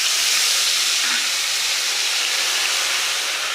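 Turmeric mixed with water hits hot oil in a pan for mutton curry, setting off a loud, steady hiss that fills the whole clip.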